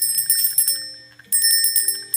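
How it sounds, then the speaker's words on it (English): A small bell rings in two bursts of rapid, bright strikes, loud and close, each burst fading into a lingering ring, with a brief pause between them. "Okay, I'm gonna ring the bell."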